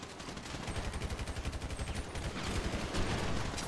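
Rapid automatic gunfire in the video game GTA roleplay, a fast rhythmic burst of shots under a dense, noisy mix, moderately loud.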